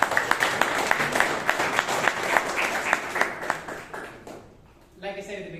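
A small Toastmasters meeting audience in Bangalore claps for several seconds, individual claps clearly audible and fairly close, tapering off before a voice begins speaking at the end.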